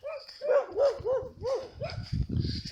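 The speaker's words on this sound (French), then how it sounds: "C'est le chien du voisin." A neighbour's dog barks in a quick run of about eight yips and barks at a moderate distance, with a low rumble and some muffled noise building toward the end.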